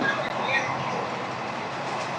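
Rayagada–Guntur Express running at high speed, near 118 km/h, makes a loud, steady rumble with continuous rattling and rushing noise throughout, with no voices.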